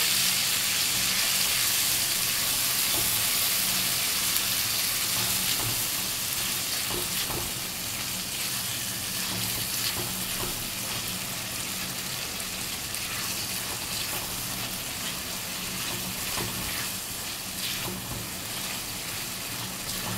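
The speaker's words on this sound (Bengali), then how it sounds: "এই যে মশলাটা গুলিয়ে রেখেছি এটা আমি দিয়ে দিলাম ফোড়নে" Spice paste frying in hot tempering oil, a loud, dense, continuous sizzle and hiss that stays nearly even throughout with faint stirring underneath.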